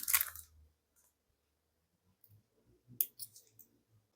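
Small scissors snip beading thread while finishing an amethyst-colored floral pearl bracelet: one crisp, close cut at the start, then a few faint clicks and soft handling noises in near silence.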